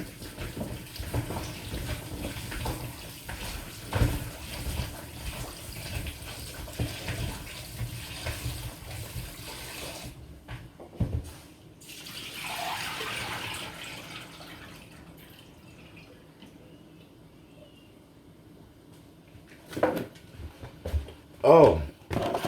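Water runs steadily from a tap as yam and baby potatoes are washed in a kitchen sink. The flow pauses briefly, then returns with splashes and handling clatter, and someone talks over the water throughout.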